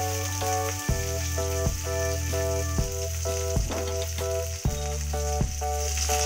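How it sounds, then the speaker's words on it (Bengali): Onion and tomato fry in a pan with a steady, loud sizzle, broken by regular stirring knocks and scrapes at roughly even intervals, with no talk. "সামান্য ভেজে নেব পেঁয়াজটাকে।"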